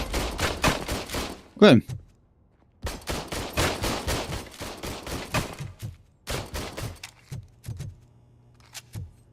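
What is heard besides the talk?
gunfire in a video game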